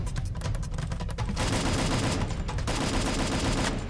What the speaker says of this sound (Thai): บ้านด้านขวายิงกันยังดุเดือด